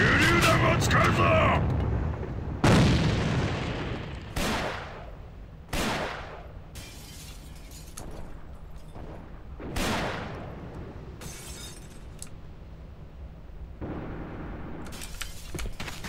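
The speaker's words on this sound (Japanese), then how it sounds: "手榴弾を使うぞ。" Grenade and gunfire blasts in the shooter game AVA: several sharp explosive bangs spaced a second or two apart, each decaying quickly, over steady background battle noise and game voice lines.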